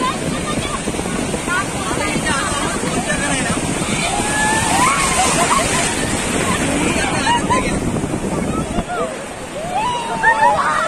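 Sea waves wash continuously onto a beach, a broad roaring surf with wind buffeting the microphone, while people talk and shout over it throughout.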